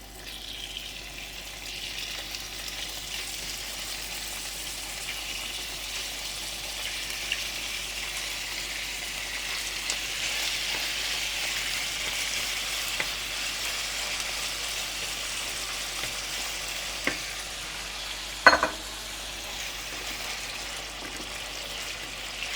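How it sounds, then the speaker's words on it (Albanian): Chicken meat frying in a little hot oil in a pan, a soft steady sizzle that runs throughout, with a sharp clatter near the end as the pieces are moved. "fillojmë me skuqjen e mishit"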